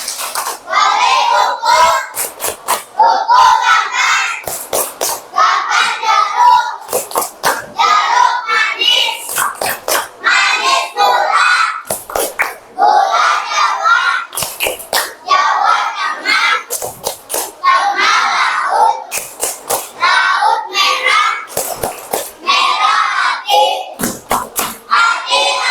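Schoolchildren at SDN Kemang 2 perform a rhythmic clapping chant, sharp hand claps in quick patterned bursts alternating with loud, close group shouting of the chant throughout.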